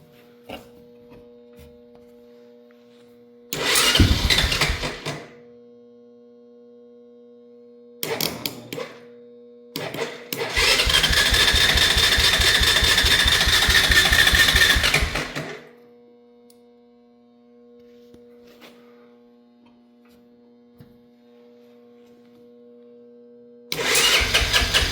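A Honda 300 engine cranks in short bursts, catches briefly and runs for several seconds, then dies and cranks again, all close and loud against a quiet background with a faint steady hum.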